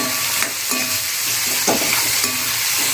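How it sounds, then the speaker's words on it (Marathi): Chopped tomatoes and onions frying in a pan sizzle loudly up close, while a spatula scrapes and stirs several times in an uneven rhythm, and no one speaks. "छान असं फ्राय करून घ्या."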